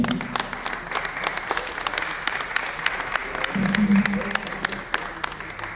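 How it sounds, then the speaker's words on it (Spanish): An audience applauds at the close of a law lecture on rights, a steady patter of fairly distant clapping that swells briefly near the end, with a faint voice underneath. "Aplausos"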